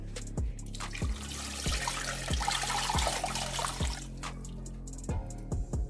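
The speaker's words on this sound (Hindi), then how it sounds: "इसमें मैं तकरीबन जो है 1 मग पानी का ऐड करूँगी।" Water poured from a mug into a pot of mutton pulao on a home kitchen stove, a steady splashing pour with several pauses and fresh splashes, fairly close, with no talking.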